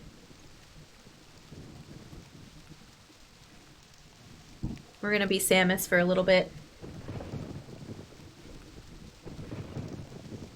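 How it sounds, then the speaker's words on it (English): Rain and thunder ambience from the video game Myst: a steady wash of rain runs under people talking, with a louder rumbling swell midway, quieter background again toward the end. "I like this rain effect, yeah."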